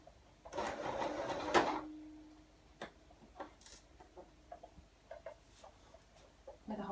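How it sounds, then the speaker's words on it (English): A sewing machine runs a short burst of stitching on a girl's dress seam, about a second of buzzing followed by quiet handling clicks and small taps. "we can start sewing these together, and again use a back stitch"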